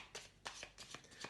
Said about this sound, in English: Now the cards are shuffled